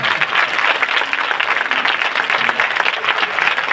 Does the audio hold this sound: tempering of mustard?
no